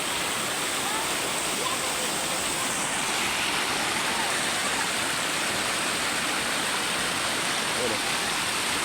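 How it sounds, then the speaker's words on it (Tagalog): A mountain river runs through Masinloc, Zambales, giving a steady, dense rush of flowing water that fills the whole stretch evenly, loud and close, with no break or change. "Sobrang fresh na water. Running water. Galing sa bundok."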